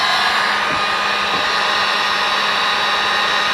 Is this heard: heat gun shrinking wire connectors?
yes